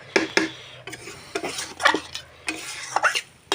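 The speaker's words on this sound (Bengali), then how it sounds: "বাঁধাকপিটাকে নেড়ে নিলাম" A spoon scrapes and knocks against a pan as cabbage curry with fish head is stirred. Irregular clinks and scrapes play close over a faint sizzle, with no talking.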